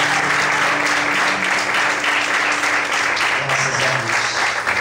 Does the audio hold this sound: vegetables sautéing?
no